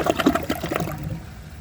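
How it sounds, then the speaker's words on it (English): A new Project Source Pro dual flush toilet is flushed, a short gurgling rush of water that fades quickly into a soft trickle, heard alone. "So let's flush this toilet and then see how it does on tests."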